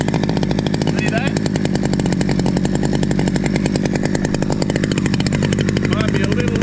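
A Stihl 009L chainsaw runs steadily nearby at a loud, buzzing idle with a rapid engine pulse; the chain may be slightly loose and bar oil is coming out onto the ground. Someone speaks over the engine noise.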